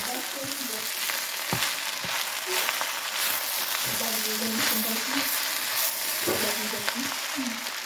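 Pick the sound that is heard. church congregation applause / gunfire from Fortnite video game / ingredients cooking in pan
ingredients cooking in pan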